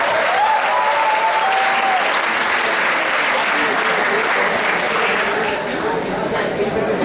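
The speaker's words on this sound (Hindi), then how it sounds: "एक बार भारती जी के लिए जोरदार तालियां बजाकर रखते हैं।" Loud, steady applause from a college alumni association audience, sustained for about seven seconds at a dense, even level, with a few whistle-like tones near the start and no clear words.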